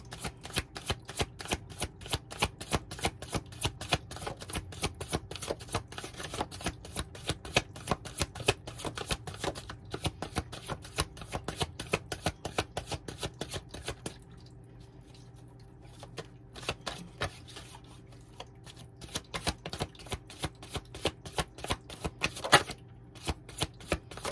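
Tarot cards are shuffled by hand in quick, steady riffling flicks, close and crisp, with a short pause midway before the rhythmic shuffling resumes.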